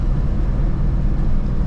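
A Ford Mustang SVT Terminator Cobra's engine and exhaust give a loud, continuous low rumble, steady and close, with no voices over it.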